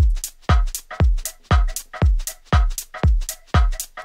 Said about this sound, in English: Add a hi-hat.